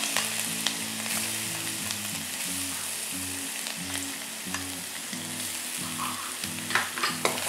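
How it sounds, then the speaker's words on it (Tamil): Finely chopped garlic and ginger frying in hot oil over medium-high heat: a steady, close crackling sizzle with a few sharper pops toward the end, heard under faint background music. "ஸோ ஆயிலில் வந்து நான் குட்டி குட்டியாக கட் பண்ண பூண்டு இஞ்சி ஆட் பண்ணுறேன்"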